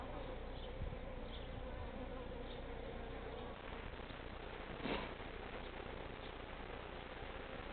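Honeybees buzz continuously around an open overwintered top bar hive during an inspection, a dense steady drone with individual bees swelling louder as they pass close, with no talking.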